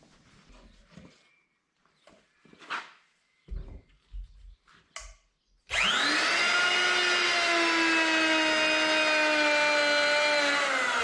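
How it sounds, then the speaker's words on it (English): A router cuts out 3/4-inch wood tacked onto a teardrop camper floor frame, a loud steady high whine with a sustained cutting roar that starts abruptly after a few seconds of quieter shop clatter and handling noise. "So I'll tack a piece of 3/4 on there, and then we can just router it all out."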